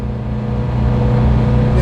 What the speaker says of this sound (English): It's going to be a noisy old drive